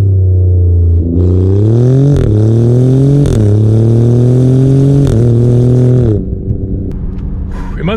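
A 2024 Alfa Romeo Giulia Quadrifoglio pulls hard from a stoplight. Its loud, close engine rises through several quick upshifts, each marked by a brief drop in pitch, then settles to a lower hum at the end.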